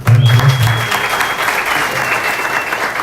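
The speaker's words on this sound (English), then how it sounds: "Let's give them one applause." Audience applause fills a seminar hall, a dense burst of clapping that stays steady and loud for about three seconds, with a brief low voice near the start.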